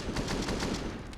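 Rapid gunfire in a Counter-Strike match on the Vertigo map, a quick string of close, sharp pistol shots in a fast irregular rhythm.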